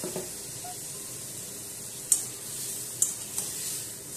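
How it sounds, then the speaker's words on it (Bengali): A paste of ground coriander, cumin, ginger and dried red chilli sautéing in a pan for fish curry, with a soft continuous sizzle and a few sharp clinks of a spoon scraping the pan. "ভালো করে একবার কষিয়ে নিচ্ছি।"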